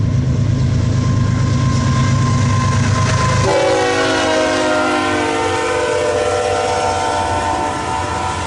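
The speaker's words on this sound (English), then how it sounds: "We have a westbound about to pass right now." A westbound freight train passing at Daggett, a loud sustained horn blast at first, then the rumble and clatter of wagons rolling by close.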